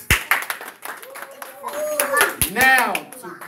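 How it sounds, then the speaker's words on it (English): Scattered clapping from parents and family at a pre-K to kindergarten transition ceremony, a handful of sharp, uneven claps mixed with children's and adults' excited voices nearby. "Parents, family, friends, give these children a round of applause."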